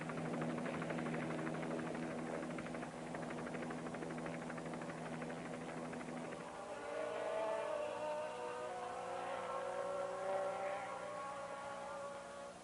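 Alain Prost's McLaren Porsche-engined Formula 1 car at the 1984 Brazilian Grand Prix, a steady engine drone with a shifting pitch that rises as the car approaches and passes, set against constant crowd and track noise.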